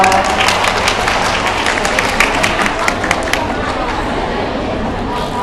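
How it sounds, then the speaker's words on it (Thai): Audience applause at a school English Day event welcoming kindergarten children, a broad, continuous wash of clapping with crowd murmur underneath, lasting the whole stretch. "ขอเสียงปรบมือต้อนรับน้องๆชั้นอนุบาลสองโรงเรียนเซนต์เซนต์บางเอกด้วยครับ"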